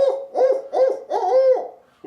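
A man imitating a barred owl with his voice for hunting scouting, four rhythmic hooting phrases, loud and close, rising and falling in a who-cooks-for-you cadence.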